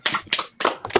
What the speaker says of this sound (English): fake applause